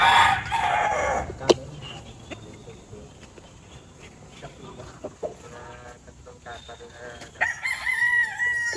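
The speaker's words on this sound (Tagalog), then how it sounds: "Isa pa rin sa mga stag ni Sir Boji Delgado dito." A young gamecock stag crows loudly and close, one full cock-a-doodle-doo near the start, then further crowing and clucking from other fowl around a rooster yard.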